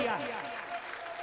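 Audience at a religious speech bursting into applause, a dense burst of clapping that fades quickly, with a voice briefly overlapping at the start.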